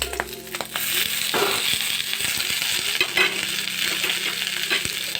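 Ginger, garlic, onion and chillies frying in rendered pork fat for an oil-free pork dish: a steady close sizzle with occasional scraping stirs, no voices.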